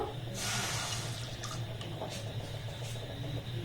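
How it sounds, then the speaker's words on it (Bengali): Two cups of liquid milk poured from a cup into a pan on the stove, a brief close splashing pour followed by soft drips over a low steady background hum. "এর মধ্যে এই কাপের মাপ করে দু কাপ আমি লিকুইড দুধ দিয়ে দেব"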